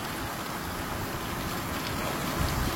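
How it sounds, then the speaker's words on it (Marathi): Heavy rain falling in Georai taluka, a loud continuous hiss of downpour filling the whole stretch with no breaks or voices. "गेवराई तालुका या ठिकाणी मुसळधार पावसाची सुरुवात झालेली आहे"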